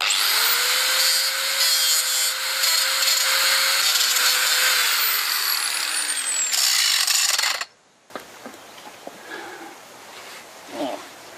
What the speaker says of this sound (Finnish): Tuosta täytyy ilmeisesti rälläköidä jo.